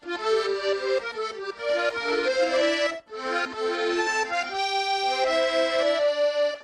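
An FL Studio melody layering a Koriana sound with a La Passion library sound plays alone, sustained bright tonal notes shifting in pitch over a steady, continuous texture.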